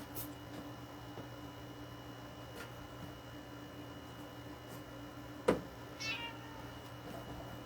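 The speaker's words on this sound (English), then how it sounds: "Sorry guys, cat." A house cat gives a single short meow partway through, standing out clearly against a quiet indoor room hum, with a faint thump just before it.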